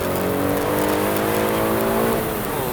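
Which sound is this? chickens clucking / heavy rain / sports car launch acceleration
sports car launch acceleration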